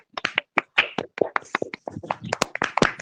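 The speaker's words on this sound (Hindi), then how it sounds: "2-4 तालियों की आवाज आ रही है" A handful of people clap at a stage event to welcome a performer, giving sparse, uneven hand claps close by that come in small bursts rather than full applause.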